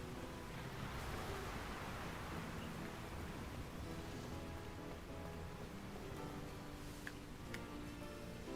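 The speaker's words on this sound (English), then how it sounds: "It's raining now." Steady rain hiss in the video game Pokémon Violet, a soft even wash of falling water with no talking, continuous and fairly quiet throughout.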